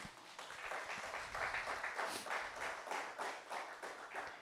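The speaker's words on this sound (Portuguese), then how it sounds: "Vamos aplaudir Jesus?" A church congregation claps together in a fairly quiet, rhythmic burst of applause, individual claps blending into a steady patter that swells slightly mid-way and continues to the end.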